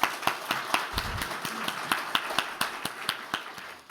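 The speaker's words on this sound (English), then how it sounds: "Give yourselves and everyone a round of applause." A crowd claps at the opening of the fourth PhilDev Summit, with several loud, distinct claps standing out over steady, even applause that keeps going through the whole stretch.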